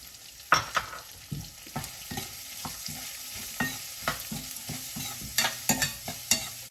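Onions sizzling in a pan while a utensil stirs and scrapes, sharp clacks and scrapes recurring irregularly over a steady frying hiss.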